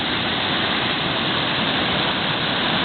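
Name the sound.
Rausch Creek mountain stream rushing in flood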